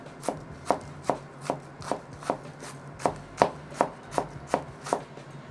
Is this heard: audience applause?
no